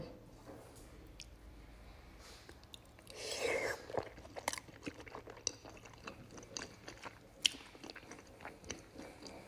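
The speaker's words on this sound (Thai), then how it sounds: "ทุกคนเราก็มาเริ่มลองกินกันเลยดีกว่าค่ะ" Raw salmon eaten with a spicy fermented fish sauce, heard as close, soft wet chewing and squishy bites with small smacks, continuing steadily throughout and picked up quietly at close range.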